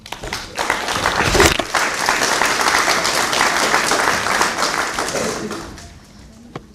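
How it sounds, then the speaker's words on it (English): An audience at a graduation ceremony applauds the graduates' families, loud sustained clapping that swells and then fades out toward the end. "I think that they deserve a round of applause as well"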